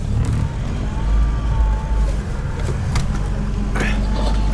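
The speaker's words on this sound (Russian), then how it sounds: "Вот едем по целине, по полю." A UAZ Hunter drives across an unbroken snowy field, its engine rumbling low and steady from inside the cabin as someone talks over it.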